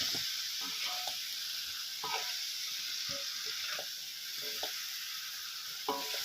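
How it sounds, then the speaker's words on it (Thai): Spicy crispy fried catfish coated in curry paste being stir-fried dry in a pan, a constant loud sizzle with repeated clinks and scrapes of the spatula at an uneven rhythm. "ผัดผัดคั่วให้แห้งนะครับ ผัดคั่วให้แห้งนะครับ"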